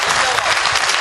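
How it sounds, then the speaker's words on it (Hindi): An audience at a mushaira poetry recital claps briskly for the poet, a short, dense burst of applause filling the room. "एक बार आप तालियां बजाकर मुझे हौसला दे सकते भाई"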